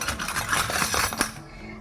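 A plate from a toy kitchen set being handled, light metallic clinks and rattles like small dishes knocking together, close and busy, fading out at the end.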